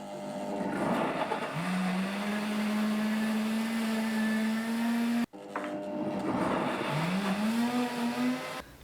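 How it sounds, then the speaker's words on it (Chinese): A blender purees chopped pumpkin chunks with a little water, giving a loud, steady motor whine that runs for several seconds, stops briefly, then starts up again with a rising pitch. "切好的南瓜块放入榨汁机中，加入少许的清水，"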